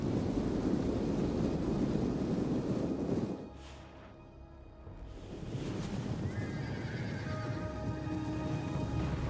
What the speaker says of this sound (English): Get my Scorpions to both target the Noble Horse.